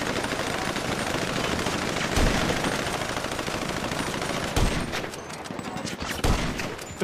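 Sustained bursts of gunfire, rapid crackling volleys rolling on continuously with a few louder sharp shots standing out, with faint voices underneath.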